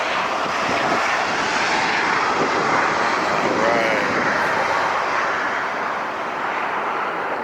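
A Southwest Airlines jet in desert livery rolling down the runway at LAX, a loud, continuous engine roar heard from nearby that holds steady throughout, with people talking beneath it.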